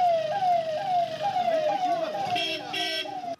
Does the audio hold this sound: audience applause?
no